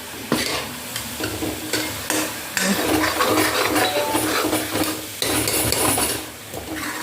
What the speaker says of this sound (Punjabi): ਲੋ ਜੀ ਪਨੀਰ ਕੇ ਹੁਣ ਮਿਕਸ ਕਰ ਦਾਂ ਰਲਾ ਦਾਂ ਵਿੱਚ